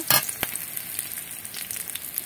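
Chilies sizzling in hot oil in a pan while cooking a Bengali vuchro kotha greens dish, a soft continuous crackle with a sharper spatter at the start.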